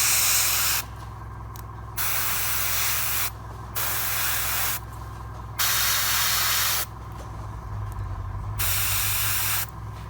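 An airbrush loaded with a paint mix tinted with a touch of white sprays onto a painted miniature figure, hissing in short repeated bursts with quiet gaps between, close and steady.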